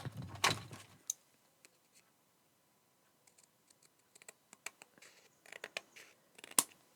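Scissors trimming paper or card strips for a craft project, a close, quiet series of sharp snips and clicks, sparse at first then clustering into quicker cuts near the end.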